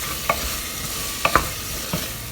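A spoon stirs a tomato and onion mixture for dal fry in a pan, making three or four brief scraping strokes over a faint background sizzle.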